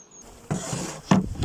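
Honeybees hum around a hive during a transfer from a nuc to a full brood box, a buzzing drone that swells in two bursts across a short span, fairly close.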